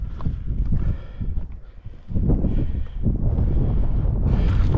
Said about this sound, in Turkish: Aşırı rüzgar var. Şu an rüzgar sesi de geliyor olabilir.